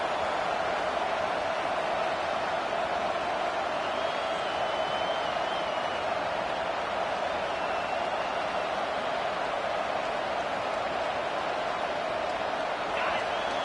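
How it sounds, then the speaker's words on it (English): A football stadium crowd at a Miami versus Penn State game roars in a steady, dense wash of noise, with commentary voices talking over it throughout. "The roar of the crowd trying to fuel this defense to keep them pinned in their own end."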